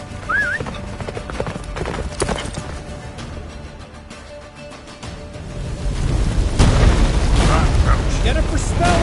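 Roach, a horse in a video game, gallops in a steady clip-clop rhythm over a busy game soundscape with booming effects and a whinny, growing louder and denser toward the end.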